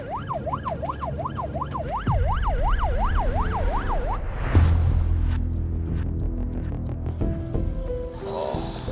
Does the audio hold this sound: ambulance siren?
yes